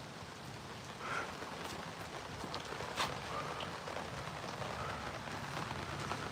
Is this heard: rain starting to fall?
yes